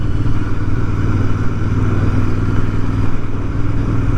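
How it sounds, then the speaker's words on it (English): Royal Enfield Interceptor motorcycle riding along, its engine and exhaust giving a loud, steady, throbbing rumble with a constant pulsing beat and no talking over it. "listen to that exhaust, listen to the noise of the engine."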